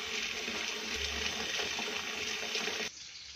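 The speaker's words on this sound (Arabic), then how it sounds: "انا بحب ان انا ايه اغسل القلقاس" Tap water gushes steadily into a sink while taro is washed, a close, continuous rush that cuts off near the end, with no talking.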